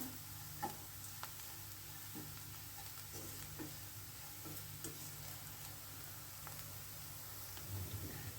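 Green chillies fry crisp in a pan for a chavalikayi dish, giving a soft, steady sizzle with light stirring scrapes and small ticks, with no talk.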